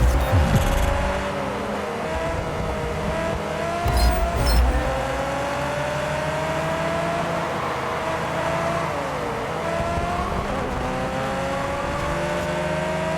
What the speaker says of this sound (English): Let's take a look at one of these, featuring some more old school race cars.